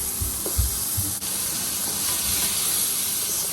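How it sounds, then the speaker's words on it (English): Tomatoes go into a pan of softened onions and sizzle with a steady, close hiss, with a few soft thuds of food landing at the start. "At this point, I am going to add the tomatoes in here."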